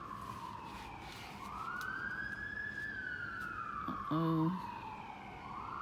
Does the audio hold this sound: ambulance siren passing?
yes